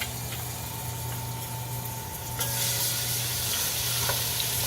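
Food fries in oil in a hot pan while a flat spoon scrapes and stirs, with a constant low hum underneath and the sizzle swelling louder midway.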